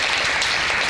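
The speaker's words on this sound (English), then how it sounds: "Let's give it a big round of applause." A short, dense burst of audience applause at a SIM Students Toastmasters meeting, even and continuous throughout.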